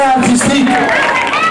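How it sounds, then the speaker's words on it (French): Loud crowd noise at a children's Christmas tree party in Abobo, with voices cheering and calling over what sounds like clapping, filling the whole moment. "Acclamation pour le para artistique Abou Nidal."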